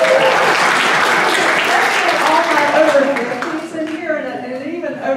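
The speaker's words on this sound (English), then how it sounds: "you can clap if you want" A keynote audience at a publishing event breaks into loud, dense applause that carries on for a few seconds before tapering, with voices and cheering rising as it fades.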